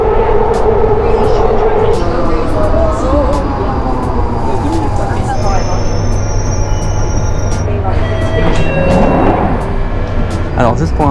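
A London Underground train runs through a tunnel with a loud, steady rumble, shifting tones and squealing wheels, while people talk over it.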